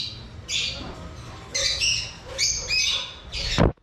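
A caged pair of blue chickens, a cock and a hen, give about five short, close, harsh squawks in irregular bursts, ending with a sharp knock.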